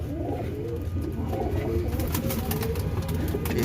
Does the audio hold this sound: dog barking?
no